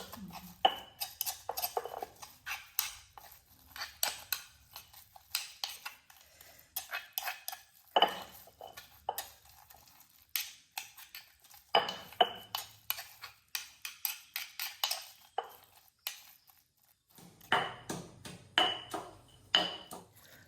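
Nam prik mangda ingredients being mixed together in a bowl, with repeated clinks and scrapes of a utensil against the dish in irregular bursts, close and moderately loud, with short pauses between strokes.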